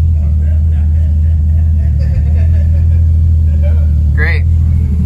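A 700-horsepower Lexus SC300 runs on a dyno with a loud, steady engine rumble that holds nearly constant throughout, a brief sweeping whine rising near the end.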